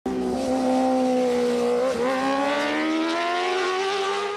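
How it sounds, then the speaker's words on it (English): A superbike races at high speed on a track, its engine a loud, steady whine that climbs in pitch, dips briefly at a gear change, then keeps rising. "Riding a superbike"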